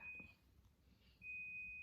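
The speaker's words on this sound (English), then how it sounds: "My laundry's done. Beeping in the background. The washer's saying, hurry up and get through this." Two separate high, steady electronic beeps from a washing machine finishing its cycle, the first short and the second held longer, sounding moderately loud over a quiet room hum.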